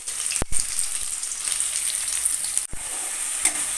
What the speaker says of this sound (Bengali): গ্যাসের ফ্লেমটাকে মিডিয়াম রেখে পটলটাকে খুব ভালো করে কষতে হবে